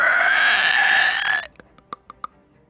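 A voice imitating a zombie with a strained, croaking groan that comes out like a failed burp, held for over a second and then cut off, followed by a few faint clicks.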